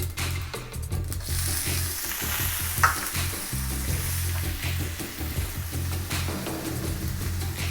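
Chopped onions hitting hot oil in a pan for upma, a dense close sizzle with stirring scrapes and knocks throughout, steady and loud with no talking.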